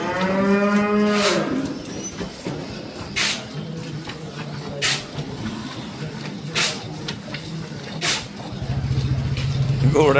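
A dairy cow on a farm lets out loud, close, drawn-out moos at the start and again at the end, with people talking in between.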